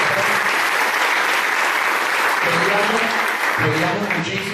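Loud, dense audience applause fills a hall at a salsa talk in Manizales, Colombia, steady and sustained throughout, with voices mixed in under the clapping.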